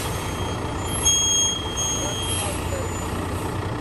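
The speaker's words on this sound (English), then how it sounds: "Look at my boy driving that truck." A truck engine runs steadily as it is driven, a continuous low rumble with a brief louder surge and faint high beeping tones above, while people talk nearby.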